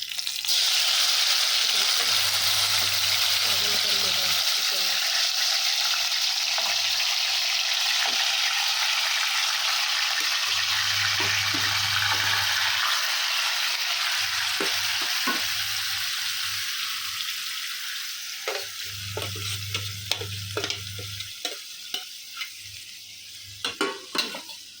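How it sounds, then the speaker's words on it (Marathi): Marinated chicken for biryani frying in hot oil, a steady loud sizzle with stirring and scraping, the frying easing slightly later as clinks of the spoon against the pot become more prominent. "तर त्यामध्ये मी हे मॅरिनेट केलेलं चिकन शिजवून घेते."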